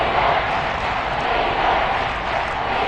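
A football stadium crowd roars in a dense, steady wash of cheering that stays loud and continuous throughout, with no break.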